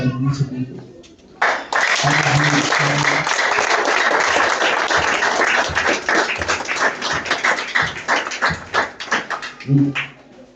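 Sustained crowd applause at a wedding, dense and loud, with a voice speaking briefly before and after the clapping.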